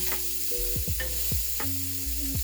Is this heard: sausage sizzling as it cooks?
yes